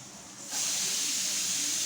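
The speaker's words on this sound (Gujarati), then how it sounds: "સીટીયું થાય છે કુકરની" A pressure cooker on the stove whistles steam while vegetable pulao cooks inside, a loud, steady hiss that swells up suddenly and then holds, alone with no talk.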